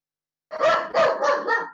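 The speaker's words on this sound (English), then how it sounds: "what a good time for my dog to start barking" A dog barks in a quick burst of four close, loud barks heard alone, picked up through a call microphone during an online event.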